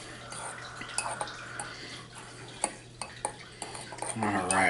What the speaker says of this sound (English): So I'm just going to give this a good little stir with a fork.